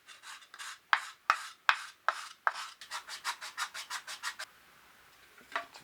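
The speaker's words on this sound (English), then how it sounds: "whenever you're sanding one surface, you want to kind of equally sand it the other side" Sanding block rubbed across a wooden guitar joint, a run of rhythmic rasping strokes, a few sharp heavy ones then quicker lighter even passes, close and alone, ending with one brief stroke after a pause.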